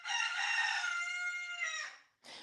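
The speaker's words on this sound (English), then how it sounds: "When you hear a rooster crow on any part of this planet, you know what you've heard." A rooster gives one long, loud, close crow lasting about two seconds and standing alone over silence, followed by a short burst of other sound right at the end.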